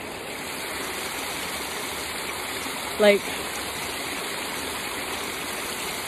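A river stream flows in a steady, continuous rush of water that fills the whole clip at an even level, with a single brief spoken word partway through.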